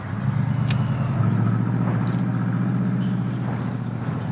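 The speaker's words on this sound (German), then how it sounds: "Fahrzeug bewegt sich." A vehicle drives through a main gate in Call of Duty Modern Warfare, a steady low engine rumble with a heavy, continuous drone that holds at the same level from start to finish, close and loud, with no voices over it.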